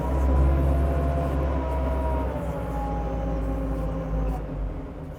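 A telehandler forklift engine drones steadily nearby as the machine makes a tight 360-degree turn, a low continuous rumble with faint whining tones rising and falling over it.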